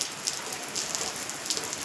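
Rain falls steadily outside as a baby plays in puddled water, producing an even, dense hiss of drops on surfaces with faint scattered splashes, no voices, close and constant.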